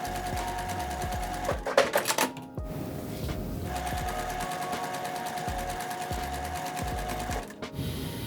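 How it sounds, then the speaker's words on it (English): A sewing machine stitches quilt fabric pieces together, its rapid, steady mechanical whirr running close up in two long bursts with a brief clattering pause between them. "we'll press them and sew them to this bigger piece here"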